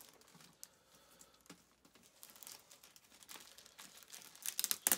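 Quiet crinkling and scratchy tearing close by, building into sharper ripping sounds toward the end as tape peels away from the bottom of the cardboard packaging of an Ant-Man and the Wasp figure.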